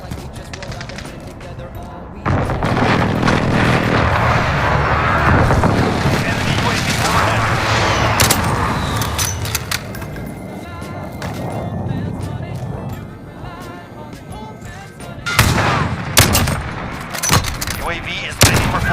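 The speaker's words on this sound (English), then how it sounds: "There's precision airstrike." Video game precision airstrike: heavy booming explosions and bursts of gunfire rumble loudly for most of the stretch, with sharper blasts near the end and a voice briefly audible.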